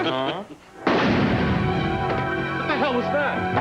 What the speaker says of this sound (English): What the hell was that? Gunshot.